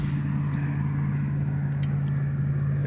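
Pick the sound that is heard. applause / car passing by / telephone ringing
car passing by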